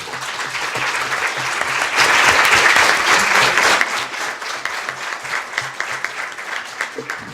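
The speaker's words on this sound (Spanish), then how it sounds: "les pido un aplauso, por favor" An audience at a Spanish-language talk applauds its speakers, with dense clapping swelling to a peak and then breaking into scattered, separate claps as it dies away.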